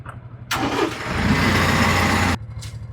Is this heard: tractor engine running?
yes